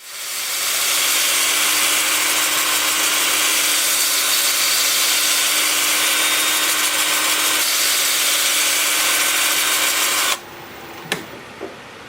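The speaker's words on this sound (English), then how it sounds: "Time for sanding." Continuous, even hiss of sandpaper pressed against spinning wood over a steady motor whir, ending with a few clicks as it winds down.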